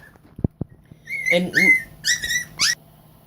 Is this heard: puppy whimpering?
yes